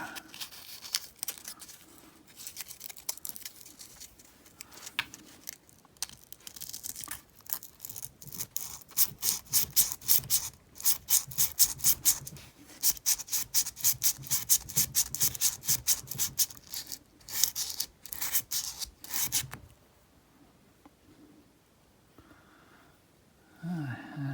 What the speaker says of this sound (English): Work on some more sandpaper here.